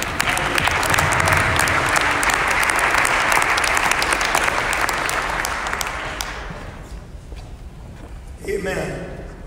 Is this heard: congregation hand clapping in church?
yes